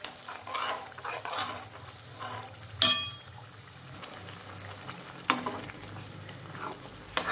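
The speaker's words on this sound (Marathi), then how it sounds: "आपला मसाला भाजला जात आहे" Ground masala paste roasting in a pan for paneer masala: a soft, quiet sizzle with gentle scraping stirs and a few sharp clinks of the spoon against the pan.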